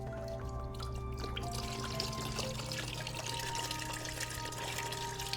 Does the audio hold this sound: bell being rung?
no